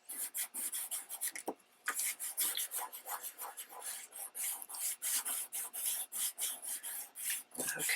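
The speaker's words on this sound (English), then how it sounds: "Just going to get my cork here. And burnish that in." A cork burnishes a craft surface on a junk journal page, a dry rapid scratchy rubbing in quick repeated strokes, close and fairly quiet, with one brief pause partway through and no speech.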